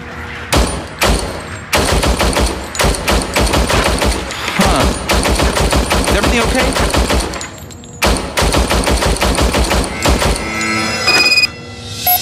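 An old service pistol in the game Robocop: Rogue City fires in long rapid bursts, loud and close, with brief breaks between strings of shots and some mechanical clicks near the end.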